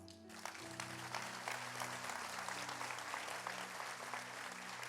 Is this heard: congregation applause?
yes